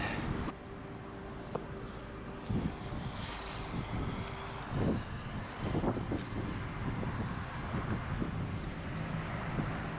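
Strong seaside wind at the Tunisian beach resort of Monastir roars steadily into the microphone, a loud, constant rushing buffet with occasional gusty thumps and no voices.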